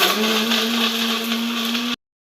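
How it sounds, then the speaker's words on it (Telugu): A mixer grinder whirs loudly and continuously with a steady motor whine for about two seconds, then cuts off abruptly into silence. "ఇవి మిక్సీ పట్టేసుకుందాం"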